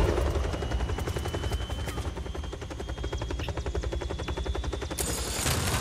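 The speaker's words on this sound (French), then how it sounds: "Hélicoptère." In the video game Just Cause 4, a helicopter's rapid rotor chop throbs steadily under bursts of gunfire, loud and continuous throughout the few seconds.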